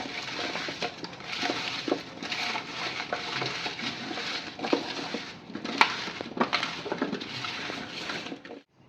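Wet, squelchy mixing of raw mango pieces with salt and turmeric using a spoon or hands in a bowl, steady and close, with occasional clinks against the dish.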